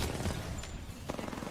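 Gunfire from the video game Apex Legends: a few muffled, booming shots and a short burst crackle at moderate volume, mixed with faint game background noise.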